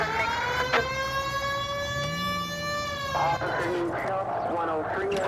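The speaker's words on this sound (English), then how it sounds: "Hit the siren." A loud wailing police siren in the video game L.A. Noire holds steady then breaks into rising and falling wails, with engine rumble underneath.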